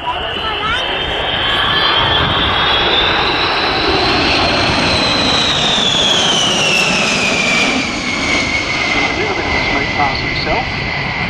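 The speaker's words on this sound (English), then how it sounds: "My goodness, here's the B-52 coming through." B-52 bomber roaring past at an air show, a loud, sustained jet engine rumble with a sweeping pitch shift as it passes, while a commentator talks over it.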